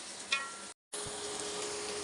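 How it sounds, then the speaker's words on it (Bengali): Onions and spices fry in a pan for beef curry, a steady hiss of sizzling with a short break as the sound cuts out, then the frying noise resumes just as loud. "এটা পেঁয়াজ ভাজাটা হয়ে গেছে এখন মশলাগুলো দিয়ে দিব"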